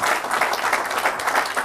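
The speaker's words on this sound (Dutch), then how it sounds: "Applaus, dames en heren." Studio audience applause at a televised local business talk show, dense steady clapping from many people, fairly close and loud throughout.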